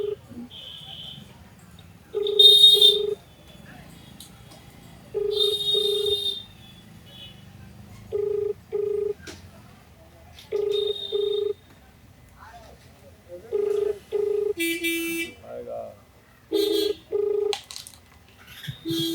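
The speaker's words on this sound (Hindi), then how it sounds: "हम नंबर मिलाते हैं ज़रा इनका" A telephone rings out on a call to a sugar mill worker in Madhubani, Bihar: short ringing tone bursts repeat at steady intervals over a quiet background, with no voices.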